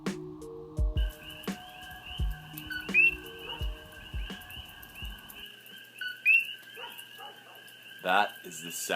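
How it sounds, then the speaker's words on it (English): Coqui frogs, introduced to Hawaii from Puerto Rico, call at night with repeated high, two-note chirps that rise in pitch, some near and some distant. A voice talks over the first half. "That is the sound of the koki, introduced to Hawaii from Puerto Rico fairly recently."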